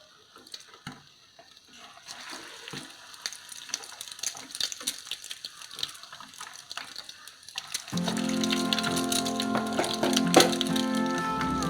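Milkfish cakes (otak-otak bandeng) dipped in beaten egg go into hot oil, and after some quiet kitchen clatter a dense, steady sizzle and crackle of frying takes over for the last few seconds.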